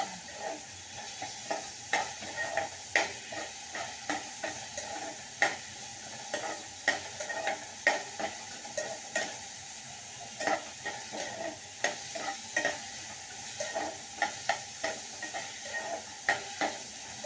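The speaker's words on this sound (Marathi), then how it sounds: "आणि कांदा लालसर झाल्यानंतर आपल्याला त्याच्यामध्ये आलं लसणाची पेस्ट टाकायची आहे." Ginger garlic paste is stirred into browned onions frying in a pan for chole: repeated, rhythmic spoon scrapes over a continuous soft sizzle, close and fairly quiet, with no talking.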